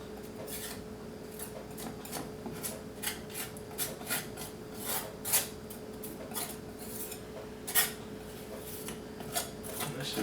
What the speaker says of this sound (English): I'm just scraping up the paint right here like that